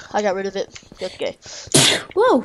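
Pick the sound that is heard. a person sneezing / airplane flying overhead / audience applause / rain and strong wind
a person sneezing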